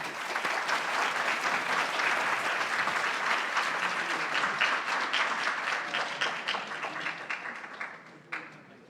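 A panel discussion at an urban forum closes with sustained audience applause, dense and steady for most of the stretch, then thinning out toward the end with a few late claps.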